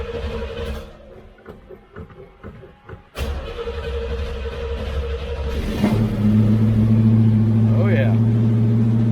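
A 1934 Buick engine cranks in short uneven bursts, then catches and settles into a steady, rising idle. Someone speaks briefly.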